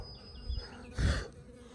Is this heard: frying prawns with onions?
no